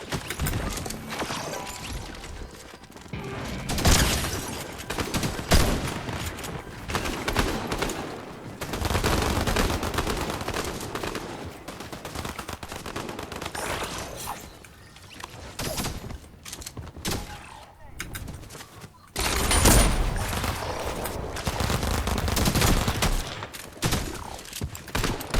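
Fortnite gunfire erupts in loud, dense volleys of rapid shots and bursts that run almost without pause, dropping briefly before another heavy barrage.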